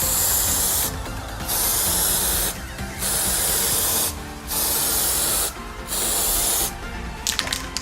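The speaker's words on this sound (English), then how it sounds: "So you'll have an overlapping spray pattern." AC Pro-Tech rust protection sprayed from an aerosol onto a mini split unit's copper tubing, a loud close hiss in four long bursts separated by short pauses, with a few clicks at the end.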